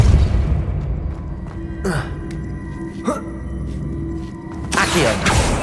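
Depulso force-push spell cast in Hogwarts Legacy, heard as a few sharp whooshing bursts spaced seconds apart over a low game ambience, the last one loud and sustained.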